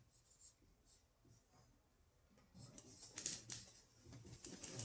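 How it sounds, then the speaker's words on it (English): Pen writing by hand on paper while working a geometry proof, a faint scratchy scribbling that grows busier and closer toward the end, with soft room noise. "I'm going to write down my given"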